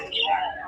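A pearly conure parrot at a Serampore pet bird market gives a brief, close, shrill squawk-like call lasting under a second.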